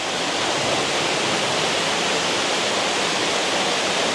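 A large waterfall in Alicante gives a steady, loud, broadband roar of rushing water that stays constant throughout.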